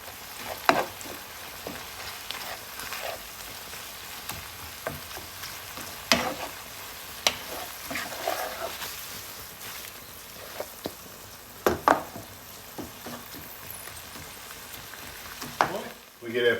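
Tuna pasta sauce with parsley cooks over medium heat in a pan, giving a steady low sizzle with occasional stirring clicks and utensil taps throughout.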